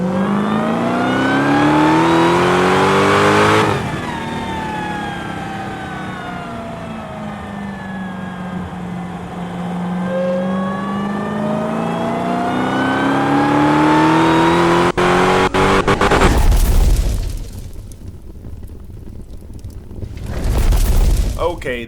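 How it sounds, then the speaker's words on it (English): A 2021 Dodge Challenger Hellcat Super Stock with an 807 hp supercharged engine roars and revs hard at Texas Motor Speedway, climbing through gears with supercharger whine, then booming loudly up close before easing off. "This is a Dodge Challenger Hellcat Super Stock 807 supercharged horsepower."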